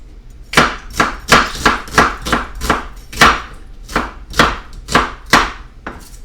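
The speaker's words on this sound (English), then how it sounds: "Same with the onions. We're going to go slice those the long way." Onions are sliced lengthwise with a knife on a cutting board, about a dozen crisp, evenly spaced chops ringing out close and loud with no talking.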